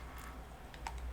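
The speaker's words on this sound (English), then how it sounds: "I'm going to type in my super secret password of 123456" A computer keyboard being typed on while a password is entered, a short run of soft, faint key clicks over a quiet room hum.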